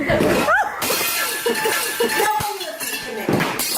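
Something drops and shatters against the floor, a sharp crash with clinking fragments, amid lively talk and exclamations from several people at a New Year gathering.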